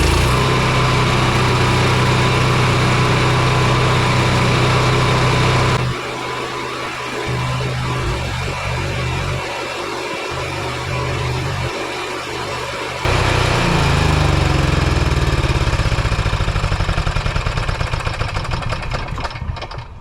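An Onan QG 4000 RV generator on a Jayco Greyhawk 30Z travel trailer runs with a loud, steady engine drone close by, dipping in level midway before returning full and then trailing off at the end.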